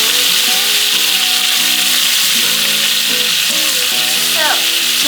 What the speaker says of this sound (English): You don't ever want to walk away from butter that you're browning because it happens very quickly.